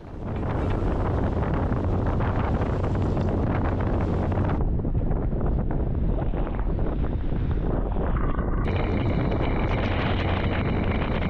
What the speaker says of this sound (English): the wind's blowing a gale